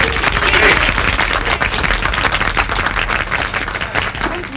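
An audience applauds Blondie at a gathering, a dense, sustained burst of many hands clapping, loud and steady throughout with no voices over it.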